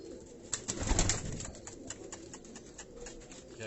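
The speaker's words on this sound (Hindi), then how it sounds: "इसमें कुछ कबूतर जो है टेडी और रामपुरी क्रॉस भी है।" Teddy and Rampuri cross pigeons coo in a loft, soft repeated throaty calls fairly faint and close, with a slight flutter of activity and no voices.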